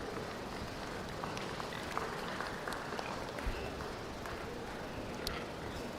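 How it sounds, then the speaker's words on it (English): An audience at the Kiowa County Fair swine show claps for the heavyweight class of hogs. The applause is a steady, fairly distant wash lasting several seconds, with a few sharper claps standing out. "let's give a round of applause for these heavyweights."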